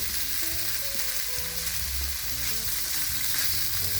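Ingredients for Peruvian-style chicken fried rice (chaufa de pollo) sear over medium heat in a pan, giving a continuous close sizzle with soft stirring scrapes throughout and no talking.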